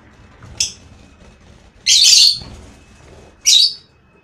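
Pet rosy-faced lovebirds give three loud, shrill calls close by, one short and two longer, separated by quiet room noise.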